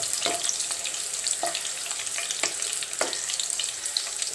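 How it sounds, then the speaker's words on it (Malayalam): Three green chillies and curry leaves fry in hot oil, giving a steady bright sizzle with a few sharp spits and crackles at irregular intervals, close and fairly loud with no voices. "ഞാൻ ആദ്യമേ തന്നെ ഒരു 3 പച്ചമുളകും കുറച്ച് കറിവേപ്പിലയും കൂടി ഇതിനകത്തേക്കൊന്ന് വറുത്തെടുക്കുന്നുണ്ട്"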